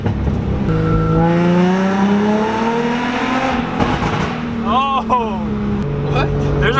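A modified Infiniti G35 engine revs loudly, then the pitch falls as it downshifts, with a harmonic whine that sweeps down. Excited voices shout over it near the microphone.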